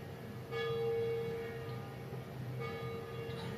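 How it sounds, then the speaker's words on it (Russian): Church bells ring out at a distance, two resonant strikes a couple of seconds apart with long humming tails over quiet background ambience. "Но мне нравится колокольный звон."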